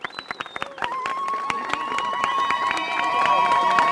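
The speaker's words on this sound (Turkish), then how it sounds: "Zılgıtlar, alkışlar, ıslıklarımızla" At a healthcare workers' strike rally in Turkey, a crowd claps rhythmically, then breaks into shrill ululation and whistles that swell and hold, with general cheering building over several seconds.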